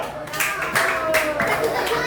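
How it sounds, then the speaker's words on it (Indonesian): Children in a classroom clap together in a brief burst of mixed, uneven hand claps, close by, with some voices and chatter underneath. "Tepuk tangan dulu, ayo."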